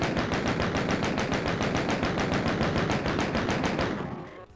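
A minigun in the video game Doom fires continuously: a dense, loud, rapid stream of shots for about four seconds that tails off at the end.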